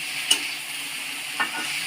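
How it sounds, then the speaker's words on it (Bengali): Capsicum, onion, green chili and baby corn stir-fry in a wok: a steady close sizzle broken by two quick scraping stirs of the spatula. "ভালো করে সুন্দর করে ভাজা ভাজা করে নিচ্ছে।"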